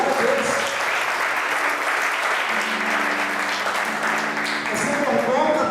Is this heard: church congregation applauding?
yes